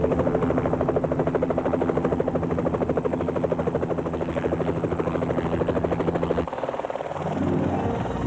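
A helicopter's rotor thumps in a fast, steady beat with a droning engine, loud and close, then the pulsing changes and eases near the end.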